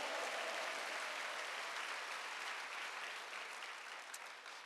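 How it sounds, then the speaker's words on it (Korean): Steady applause from a large church congregation during a worship service, sustained throughout and slowly fading slightly toward the end. "주님께 뜨거운 박수를 올려드리겠습니다."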